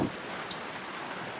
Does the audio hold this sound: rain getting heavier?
yes